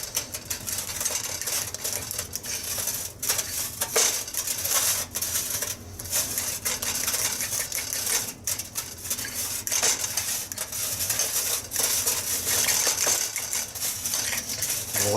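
Spices and dried herbs, including basil and thyme, mixed together in a bowl for a pulled pork rub, with steady clinking, scraping and rattling that keeps up loud and close without a break.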